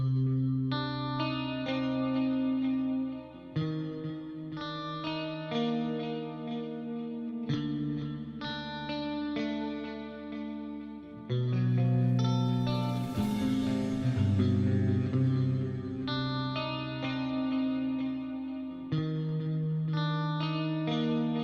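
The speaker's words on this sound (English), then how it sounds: "let's check out some clean tones first" Clean electric guitar played through the Archetype plug-in, with chorus and echo effects, ringing out chords and arpeggiated phrases in distinct phrases with sustained, shimmering tails, loud and alone.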